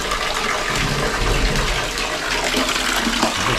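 Strong, loud rush of water flushing in a campsite toilet at a river ranch in Tanay, Rizal, a continuous close gushing torrent with no talking.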